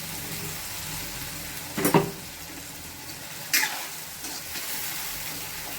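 Ground masala paste sautés in oil in a pan with a steady close sizzle, broken twice by louder bursts of crackling, probably from stirring.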